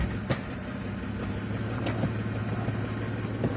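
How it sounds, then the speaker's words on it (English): A BMW E36 engine idles after a clutch replacement, a steady, even low hum with no rumble, heard alone with a few faint clicks over it. "The idling is nice, there's no rumbling."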